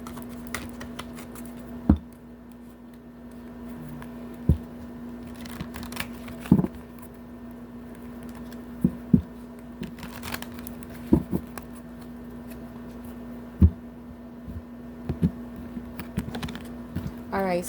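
A Light Seers tarot deck is shuffled by hand in a quiet room, giving scattered soft card snaps and riffles spaced every second or two over a faint steady hum.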